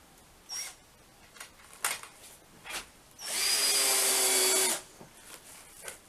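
Power drill driving a screw to fasten cladding retainer wire: a few short taps and clicks, then one sustained high whine lasting about a second and a half, then quieter handling noises.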